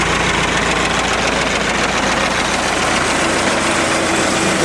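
A farm tractor engine idles steadily while driving a homemade log-lift wood splitter through its PTO, a loud, close, unbroken mechanical rumble and chug with no talking.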